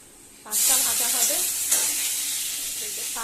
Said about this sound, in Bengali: কলমি শাক হবে ভাজা